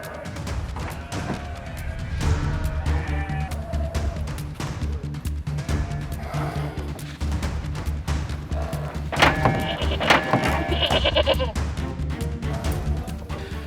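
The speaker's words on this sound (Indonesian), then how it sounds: "2 ekor domba Garut berusaha keras melakukan perlawanan" Two Garut sheep bleat loudly and repeatedly as they resist being moved from their pen onto an open-bed truck, with occasional thunks and knocks of struggling bodies and equipment close by.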